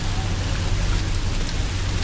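Rain falls steadily in the horror game Song of Horror, a close, dense patter on surfaces with a low rumbling undertone and a few sharper drop hits.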